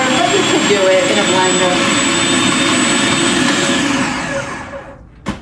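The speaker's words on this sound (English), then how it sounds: "you want to do this in a food processor if you have it rather than a blender" A food processor whirs at a loud, steady high speed while blending spinach pesto, then winds down and stops near the end with a small knock.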